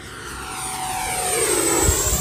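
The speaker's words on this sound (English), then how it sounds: "Now let's do a full speed pass. You can listen to that motor." An RC jet makes a full-speed pass, its motor rising from a steady whine to a loud rushing roar as it sweeps close by, with no voices over it.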